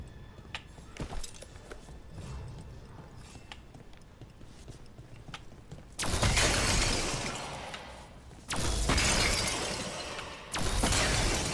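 Poison is destroyed in Dragon Age: The Veilguard, with quiet footsteps and movement giving way to three loud, sustained bursts of crackling, shattering noise, each cutting off abruptly.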